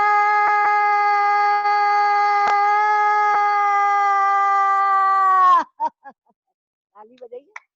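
People in a yoga class in lion pose (simhasana) give one long, loud, voiced roar that imitates a lion. It is held for about five seconds and cuts off sharply, followed by a few faint short sounds.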